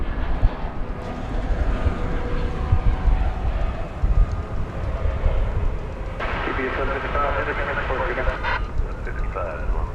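An aircraft departing DFW Airport at night makes a loud, rumbling engine roar that sustains for several seconds, with a person talking over it.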